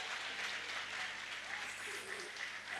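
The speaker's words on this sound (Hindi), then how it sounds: "आप यहाँ तालियाँ देते हैं" An audience at a university mathematics department talk applauds with a steady, faint wash of clapping heard from a distance, with murmured voices blended in.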